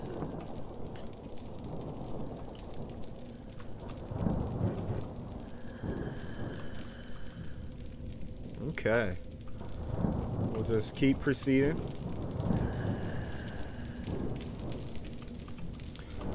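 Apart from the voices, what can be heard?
rain and thunder in the horror video game Wick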